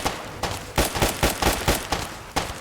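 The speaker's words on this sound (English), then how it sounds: "Where did he shoot me from?" Rapid gunfire bursts crack out in the video game Fallout, a run of sharp, fairly loud shots in uneven rhythm, some clustered close together, with a final isolated shot after a short pause.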